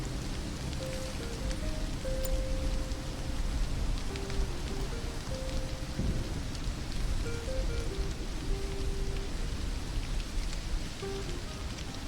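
Steady rainfall in the video game Stranded: Alien Dawn, a continuous dense hiss of falling rain throughout, with soft musical notes playing faintly over it.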